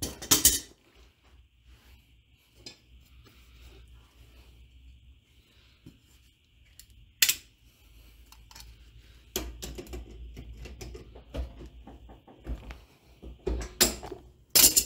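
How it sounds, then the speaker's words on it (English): Pliers push back the e-brake lever on the brake caliper of a 1979-2004 Ford Mustang to slip the cable out. Sharp metallic clinks and clacks come at irregular intervals over quiet, with a cluster of louder knocks toward the end. "I'm going to grab the lever with the pliers, push it back, just start slipping cable"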